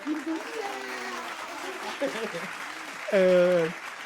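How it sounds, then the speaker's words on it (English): Studio applause sound effect in a talk show, a steady wash of clapping with voices talking over it and a louder vocal burst near the end. "Standing ovation for you."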